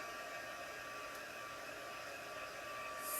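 A hair dryer runs steadily and fairly close as it dries freshly applied chalk paint, a constant whooshing drone with no pauses or voices.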